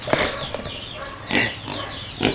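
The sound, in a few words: pigs oinking on a farm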